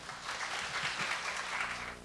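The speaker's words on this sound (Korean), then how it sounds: "여러분의 뜨거운 박수로 맞이하도록 하겠습니다" Church congregation applause welcoming a pastor to the pulpit, a dense, even wash of clapping at moderate distance, fairly quiet and unbroken by talk.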